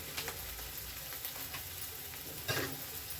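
Spices such as chilli powder, garam masala and coriander stirred in a hot pan for palak gravy, a soft steady sizzle with scraping spoon strokes and one sharper scrape near the end.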